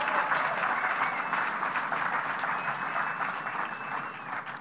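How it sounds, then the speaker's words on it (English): Audience applause fills a hall at a political fundraising dinner, a steady, dense clatter of many hands that holds for several seconds and tapers slightly toward the end. "Give yourselves a round of applause"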